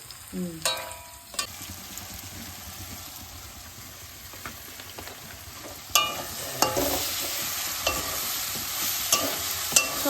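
Spices and vegetables sauté in a pan, a steady close sizzle with scraping stirs and a few sharp clacks of a utensil against the pan, getting louder in the second half.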